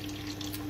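Water pouring steadily from a tap into a container to test a sealed underwater RGB LED pool light, a continuous close splashing rush with a faint electrical hum underneath.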